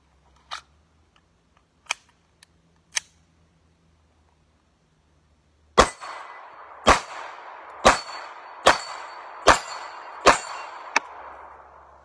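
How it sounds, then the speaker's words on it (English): Bullets striking 8-inch steel plates at about 10 to 12 yards ring out as sharp metallic clangs, three spaced hits followed by a faster string of seven loud, ringing impacts over steady background noise. "did some plate work with some 8-inch steel plates"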